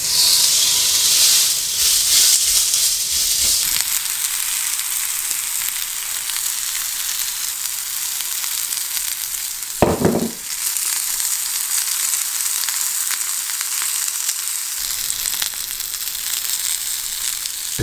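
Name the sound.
burger frying in olive oil in a grill pan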